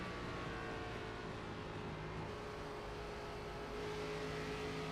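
A NASCAR race car engine in an iRacing game at Indianapolis roars at a steady, loud pitch throughout as the car heads into turn three, with no talk.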